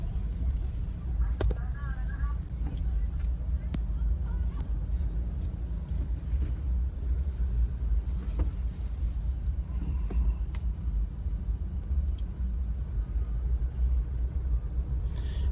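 Heavy road traffic crawling in a jam during Songkran in Thailand, heard from the open back of a pickup truck: a constant low engine rumble with wind buffeting and occasional faint voices.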